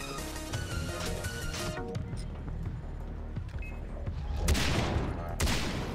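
Sniper rifle shots in the video game Far Cry 3: Blood Dragon, heard as several sharp cracks spread across the clip over a steady backdrop of game music and ambience, with a denser burst near the end.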